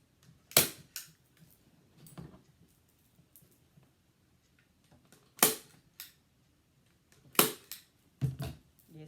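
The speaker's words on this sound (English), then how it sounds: "I'm going to do a staple right there." A staple gun fires into fabric on a kitchen chair during reupholstering, giving several sharp, isolated snaps spread irregularly with quiet handling noise between them.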